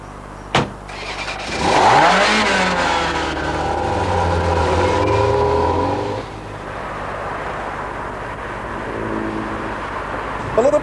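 A Ferrari 348 sports car revs while driven, a sharp blip then a rising, sustained engine note that sweeps up and holds before settling to a lower drone, close and loud.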